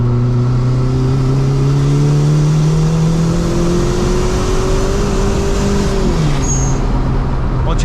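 A turbocharged Perodua Kelisa 1.3L climbs uphill at steady part throttle, its engine droning loudly in-cabin with a rising pitch, then dipping sharply at a gear shift before pulling again.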